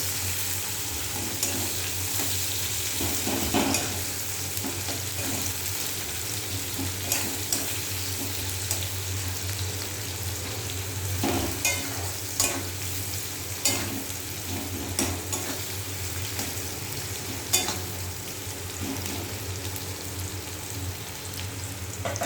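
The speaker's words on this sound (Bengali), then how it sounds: "পেঁয়াজটাকে হালকা ভাজা করে নেব।" Chopped onion frying in oil in a pan, stirred now and then, with a steady close sizzle and occasional scraping strokes of a spoon throughout.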